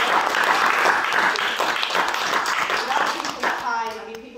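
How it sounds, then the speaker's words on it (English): Audience applause at a disability arts exhibition, a dense burst of clapping from a crowd at close range that fades out at the end. "So I can just give everybody a round of applause for that."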